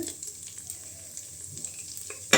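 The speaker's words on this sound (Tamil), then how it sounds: "பாருங்கள் எண்ணெய் தெளித்து வருது இப்போ வந்து இந்த சோம்பு பட்டை போட்டுட்டு" Fennel seeds and cinnamon bark splutter in hot oil for Thai-rice mushroom biryani. A short burst of close, crackling sizzle ends on a sharp clatter.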